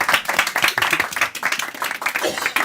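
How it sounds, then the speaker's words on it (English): Audience applause welcoming a speaker on stage at a Boerse Stuttgart live event, a steady patter of many hands clapping at close range for a few seconds, with no talk over it. "We will welcome you with a warm applause."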